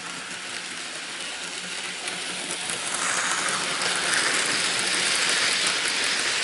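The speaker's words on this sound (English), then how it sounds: "there goes the J83 hauling its train." A Hornby J83 model locomotive hauling its train runs with a steady, hissing mechanical whir that grows slightly louder partway through, with no voices.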